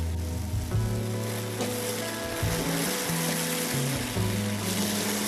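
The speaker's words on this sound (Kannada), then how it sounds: "ಇಲ್ಲಿ ಸ್ವಲ್ಪ ಖಾರದ ಪುಡಿಯನ್ನ ಹಾಕ್ತಾ ಇದ್ದೇನೆ ನಾನು." Tomato bath sizzling loudly in a pan as chili powder is added, a constant close frying hiss with occasional stirring scrapes and no voices.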